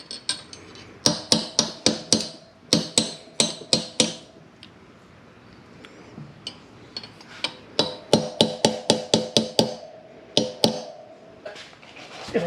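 Brake caliper bolts on a vintage Kawasaki H1/H2 front dual brake conversion being tapped in with a metal socket extension: sharp, close metallic strikes in quick bursts of several blows, separated by short pauses.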